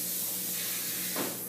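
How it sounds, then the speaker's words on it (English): Cooking spray hisses from a small can onto a 9 x 13 inch baking pan in one continuous close burst, brightening briefly near the end. "Then you would get this little can and spray it on the 9 x 13 inch pan."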